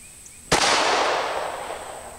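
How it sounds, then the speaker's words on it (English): A Beretta 950 pistol chambered in .22 Short fires one loud, sharp shot at close range, followed by a long, fading echo. "We're going to shoot at that little block there at the top of the large circle."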